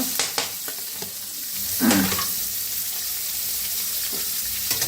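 Bay leaf and onion frying in hot oil for a village-style fish curry, a steady broad sizzle with a brief louder stir near the middle and a few faint knocks.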